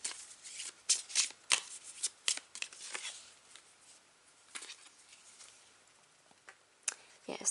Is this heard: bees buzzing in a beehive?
no